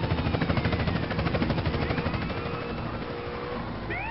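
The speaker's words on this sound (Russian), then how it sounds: "Не, у меня вертолет застрял," In a video game, a military helicopter's rotor and engine drone with a fast, rhythmic chopping pulse that steadies and softens slightly, heard fairly quietly without speech.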